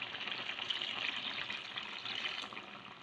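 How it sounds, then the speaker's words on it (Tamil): Water poured into a pan of prawn gravy, a soft continuous splashing and trickling stream, faint and close, with no voices. "தேவைக்கேற்ப தண்ணி சேர்த்துக்கிறோம்."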